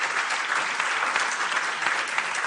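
An audience at a marine spatial planning conference claps steadily, a dense, even wash of applause from many hands in a hall, sustained without pause.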